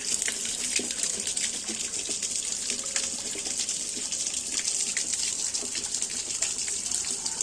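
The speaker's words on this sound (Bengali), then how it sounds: "এইবার জলটা ব্যাকওয়াশে দিয়ে বার করা হচ্ছে" Water gushes steadily out of a home water softener during its backwash cycle, a continuous loud hissing flow with no breaks, heard close and alone.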